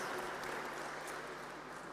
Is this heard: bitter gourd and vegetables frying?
no